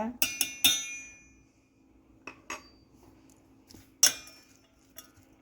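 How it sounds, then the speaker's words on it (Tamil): A spoon clinks against a bowl while ghee and salt are mixed together for a sandwich filling: a few sharp metallic taps close up, then scattered lighter clinks against a quiet background. "போட்டுட்டு நல்ல வடிவாக கலந்து விட வேணும்"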